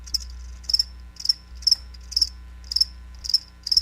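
Crickets chirp as a sound effect in a radio advert: clear, evenly spaced bursts of high trilling pulses repeat about every half second over a faint low hum, with no voices.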